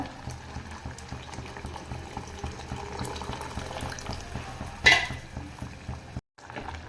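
Turkey berry sambar bubbling steadily in a pot after tamarind extract is stirred in, a soft continuous simmer with a brief louder splash or clatter near the end before a short pause.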